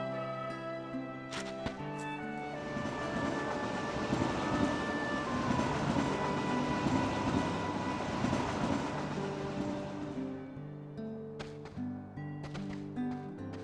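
A train rumbles across overhead tracks in Kingdom Hearts 2, swelling into a loud, rolling roar for several seconds before fading, with soft game music continuing underneath.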